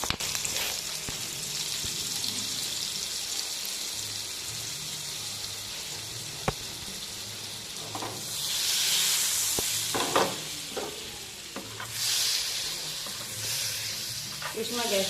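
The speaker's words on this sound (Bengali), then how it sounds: "এই একই তেলে আমি ফোড়নের জন্য ব্যবহার করব দারচিনি, এলাচ আর লবঙ্গ।" Cinnamon, cardamom and cloves sizzle and fry in hot oil for a paneer butter masala, a steady crackling hiss with louder bursts of spitting and stirring midway and near the end.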